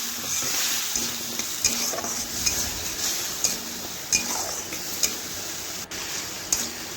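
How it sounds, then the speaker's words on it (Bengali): Spice masala stirred and frying in a pan for a vegetarian potato and pointed gourd curry: a steady close sizzle with frequent light scraping and ticking taps of the spoon against the pan. "এইভাবে নাড়াচাড়া করে বেশ কিছুক্ষণ কষিয়ে নেব।"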